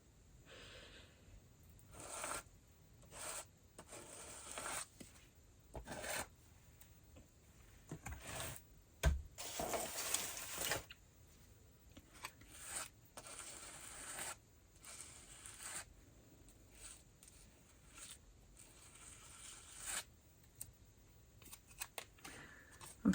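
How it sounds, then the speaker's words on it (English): White gesso being spread with a plastic credit card in a messy layer: repeated close scraping and smearing strokes in irregular bursts, with short pauses and no voices. "I've got normal white gesso, and I've got a credit card to spread it."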